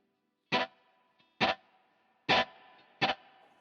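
Electric guitar through a Helix Stadium wet-dry-wet reverb preset with built-in slapback: four loud, distorted strummed chord stabs spaced about a second apart, each cut short and trailed by a faint ringing tail over low hiss.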